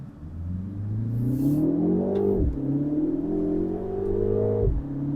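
A Mini Cooper JCW convertible accelerates hard along a winding road, its engine note climbing steadily through the gears with two sharp drops at shifts, loud and close, with no talk.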